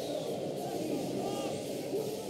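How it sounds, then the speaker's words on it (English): Crowd cheering at an EVO 2012 fighting game tournament match, a steady, dense roar of many voices that holds at an even level throughout. "Crowd loves it."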